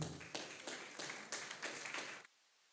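Audience applause at the Mount Peace community Wi-Fi launch in Jamaica: a short burst of indoor clapping from a crowd, fairly faint, swelling in a few waves before cutting off abruptly.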